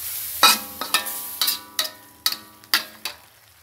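Mussels and chopped cha plu leaves cooking in a pot of Thai curry, with a series of sharp clinks and scrapes as the mixture is stirred, each followed by a brief simmering hiss.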